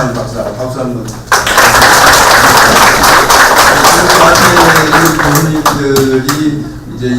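Workshop attendees at a Buddhism and Fourth Industrial Revolution event break into sustained applause for two doctors, a brief voice first, then a full, even wash of many hands clapping close by.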